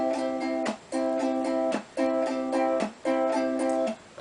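A ukulele strums a steady down, up, hit, up pattern, with bright chords broken by short muted percussive hits at a regular rhythm, close and clear with no voice.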